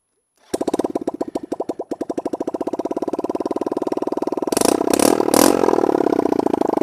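A motorcycle engine with its exhaust removed starts and idles with a rapid, harsh popping putter, then blips louder with sharp revs near the end.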